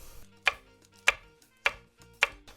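Knife chopping a red chili pepper into rounds on a cutting board, four sharp, evenly spaced cuts about half a second apart, close and clear with no talking.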